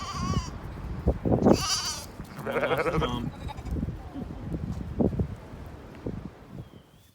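Lambs on pasture bleat in short, uneven calls over light outdoor rustling, some cries close and fairly loud, others softer, spread across several seconds.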